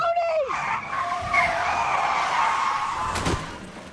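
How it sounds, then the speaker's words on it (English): A car's tires screech in a long skid at close range, sliding loudly and steadily before a sharp impact thud near the end in a dramatic TV crash scene. "This scene where Aid and Tony are in a car and it crashes"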